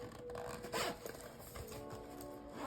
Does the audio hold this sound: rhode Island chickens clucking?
no